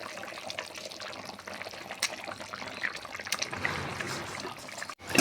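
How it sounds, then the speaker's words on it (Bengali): Rohu fish pieces slipped into simmering Bengali curry gravy give a steady, close wet bubbling and sizzling hiss with faint trickling, continuous throughout with no talking. "মাছগুলো ঝোলের মধ্যে দিয়ে দিলাম"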